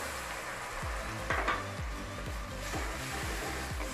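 Ginger, garlic and green chili paste frying in hot oil with a steady loud sizzle, while a utensil stirs and scrapes the pan in a repeated rhythm for cauliflower korma.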